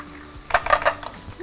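Onions frying in a pan as tomato paste is stirred in, with a brief cluster of scraping and sizzling bursts from the spoon over a low background, no talking.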